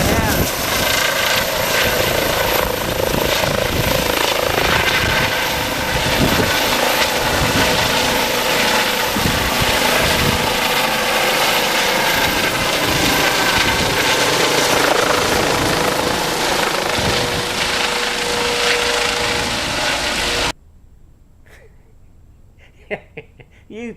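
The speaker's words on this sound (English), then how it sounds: "That's their emergency copter taking off there." An emergency helicopter lifts off near a hospital, its loud, steady rotor and engine roar filling the scene for about twenty seconds before cutting off abruptly, leaving near silence.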